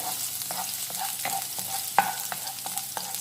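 About one and a half teaspoons of garlic frying in a pan for gobi manchurian, with a continuous close sizzle broken by regular spatula scrapes and one sharper clack.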